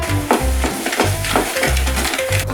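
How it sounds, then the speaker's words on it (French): Brookie batter stirred in a bowl just after an egg is added, a close sticky rhythmic scraping and squelching of a spoon in thick mixture, repeated in four or five strokes. "Ensuite, on va rajouter l'œuf qui est là. C'est drôle. Et on mélange."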